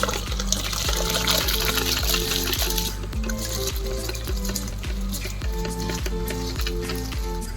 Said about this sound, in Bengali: জল ফুটে গেছে, চালটা দিয়ে দিচ্ছি।